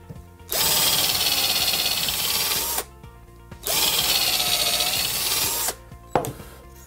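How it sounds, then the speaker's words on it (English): A power drill whines loudly in two long bursts of a couple of seconds each while drilling pilot holes in pallet wood, separated by brief pauses, followed by a short final spurt. "drill a pilot hole in them first"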